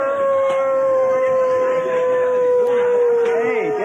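A person's voice imitates a dog howling: one long, steady, loud howl that holds its pitch and then slides downward at the end.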